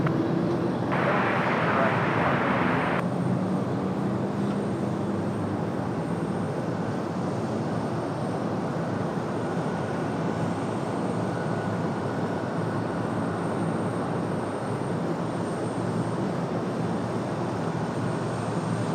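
A jet departs Raleigh-Durham International Airport, its engines producing a loud, sustained broadband roar that holds steady throughout, with a brief brighter hiss near the start.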